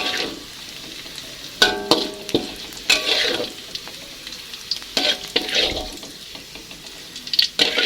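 Tempeh frying in hot oil in a home kitchen, crackling sizzle with repeated stirring scrapes and bursts of spattering, close and uneven in rhythm.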